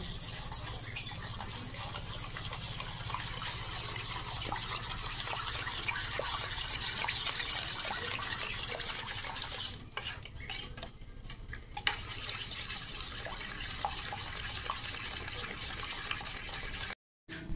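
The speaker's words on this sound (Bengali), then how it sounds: "এবার ডিমটাকে ফেটিয়ে নেব" An egg seasoned with salt, turmeric and a little chili powder is beaten with a utensil against a bowl. The rapid, faint clinking and stirring runs steadily, with a short pause partway through.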